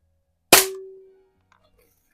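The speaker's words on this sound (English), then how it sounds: "this is a Crosman Challenger model 2009, and it is a really cool gun" A single sharp report from a Crosman Challenger 2009 PCP air rifle, loud and close, with a brief ringing tail fading over about half a second, then quiet.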